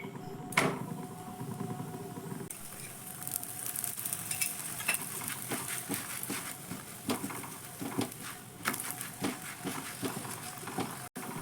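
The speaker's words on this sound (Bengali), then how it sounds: "একইভাবে সব পরোটাগুলো ভেজে নেব" Potato and boiled egg stuffed paratha frying in a pan, a steady close sizzle with scattered crackles and spatters, one sharp early tap and a clatter at the very end.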